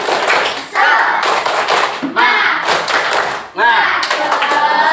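Schoolchildren in a fourth-grade class perform a rhythmic clapping chant, with bursts of loud, patterned claps mixed with voices chanting close by in the classroom.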